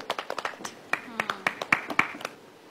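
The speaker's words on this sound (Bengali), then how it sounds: "একটু জোরে করে হাততালি দিতে হবে" An audience claps at a celebrity quiz show: a run of sharp, scattered handclaps close by, uneven in rhythm, with voices talking over them.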